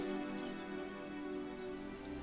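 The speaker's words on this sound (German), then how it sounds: "Und der Regen fiel, und die Fluten kamen, und die Winde wehten" Light rain falling and dripping onto a surface, faint and steady, with no voices, lasting only a couple of seconds.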